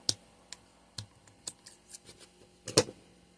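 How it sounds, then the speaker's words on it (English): Scissors snip a yarn tail off a crocheted jellyfish head, a few sharp close clicks spaced out over a quiet room, the last cut slightly louder and fuller. "we're going to snip the tail off"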